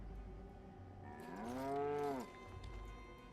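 A cow in a video game lets out one long, loud, rising-then-falling moo at mid-clip over a low background hum, with no talking.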